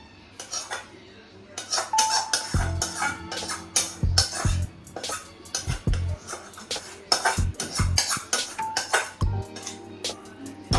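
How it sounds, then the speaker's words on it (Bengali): Potol dorma curry is transferred from a pot into a serving bowl, with a metal spoon clinking and scraping against the cookware in close, irregular bursts. "তাহলে আমি একটা পাত্রে এখন ঢেলে নিচ্ছি, তুলে নিলাম এখন সব।"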